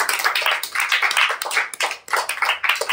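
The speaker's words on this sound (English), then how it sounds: "Everybody clap for Team A." Grade 4 students clap for Team A in a classroom, a dense burst of many hands slapping together, loud and close, with no talking.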